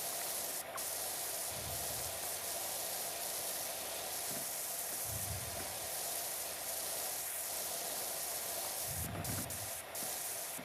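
Steady hissing pressure-washer spray from PowerWash Simulator 2, a continuous broadband rush that holds level throughout with a few low thumps beneath it, no talking.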